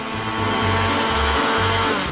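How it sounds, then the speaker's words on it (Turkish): Electric hand mixer whirring through waffle batter in a kitchen, a steady loud motor buzz with a low throbbing pulse as the beaters churn, close and uninterrupted. "Bunu bir mikserle çabucak yapacağım."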